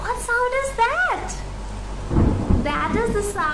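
Rain with rolling thunder played as a sound-recognition example in a nursery phonics lesson; a low rumbling roar builds midway under a shower of rain, with children's sing-song voices heard before and after.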